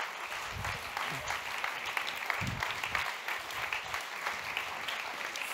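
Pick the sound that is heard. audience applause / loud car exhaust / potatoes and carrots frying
audience applause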